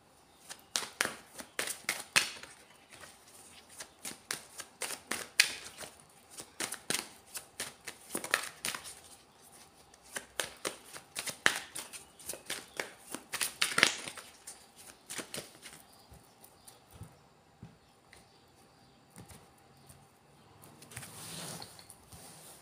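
Oracle cards are shuffled by hand in a series of quick riffling bursts and soft slaps, close and fairly quiet, pausing briefly before a final flurry.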